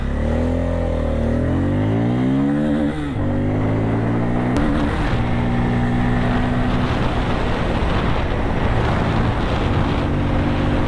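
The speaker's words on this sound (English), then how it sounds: "And can you hear the grunt? This is the grunt with the newly developed Pulsar." A Bajaj Pulsar 250N motorcycle with its new 250cc engine revs and grunts loudly up close, climbing in pitch, dropping briefly, then settling into a steady, rough-edged drone.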